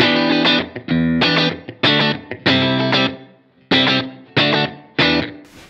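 Electric guitar played dry through an Iridium amp pedal, sounding as a run of loud strummed chords and ringing phrases with brief gaps between them.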